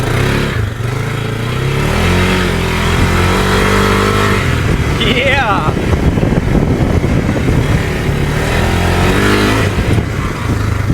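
Engine of a cheap, rusty UTV revving loudly and continuously while driving, with rising and falling pitch as it accelerates; a short shout is heard over it.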